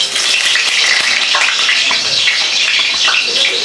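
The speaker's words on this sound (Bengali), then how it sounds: "আলুগুলো ভেজে নিই আমি" Potatoes fry in a wok for a spicy chicken kosha mangsho, making a loud, steady hissing sizzle with no pauses and no talk.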